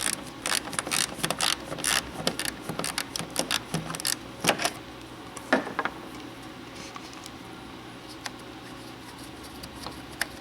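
A ratchet clicks in quick, crisp bursts while loosening an 8mm bolt on a Ford Taurus headlight assembly, close and fairly quiet, then thins out to a few scattered clicks and tool taps.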